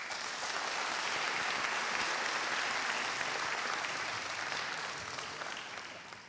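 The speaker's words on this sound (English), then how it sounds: "Can we have another round of applause for them" Audience applause for student panelists at an event, dense continuous clapping that holds steady and then gradually thins toward the end.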